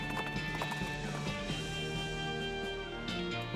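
Horse hooves clip-clop steadily in the West of Loathing video game, a brisk rhythmic trot heard alongside game music, with a short whinny.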